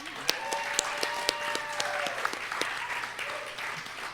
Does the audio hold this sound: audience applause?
yes